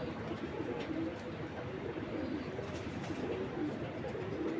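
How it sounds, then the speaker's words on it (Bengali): A female Giribaz pigeon coos softly and repeatedly, low and muffled, over a constant background hiss with no talk. "লাখ টাকার কবুতর ছিল এক সময়, ছেড়ে দেখায় কবুতরটা"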